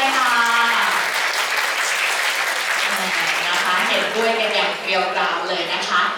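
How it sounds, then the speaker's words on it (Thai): Guests at a wedding reception in a hotel ballroom clap steadily and warmly for the groom, a continuous round of applause with a host's voice and music-like tones running beneath it. "ขอเสียงปรบมือดังๆ"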